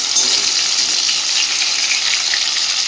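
Potatoes fry with salt in oil, producing a loud, dense and unbroken sizzle right up close, with no talking over it.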